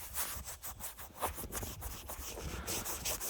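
Close, rhythmic rubbing of a cloth being wiped across a camera lens, quick repeated strokes with a scratchy texture and no talk.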